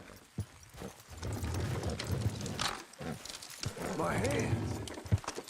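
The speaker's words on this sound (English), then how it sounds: "Horses will pull it clean down." Horses in Red Dead Redemption 2 strain to pull a load, their hooves clopping amid creaking and rumbling, mixed under in-game dialogue.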